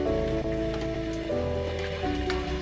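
Ginger and vegetables sizzle and crackle in hot oil, a dense continuous hiss with steady tonal hum beneath, fairly loud and unbroken.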